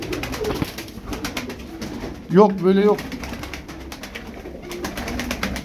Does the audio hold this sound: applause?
no